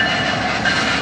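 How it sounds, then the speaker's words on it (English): A switch engine slowly hauls a short train past, making a steady, close rumble of rolling wheels and rail cars that holds at constant loudness throughout. "The switch engine."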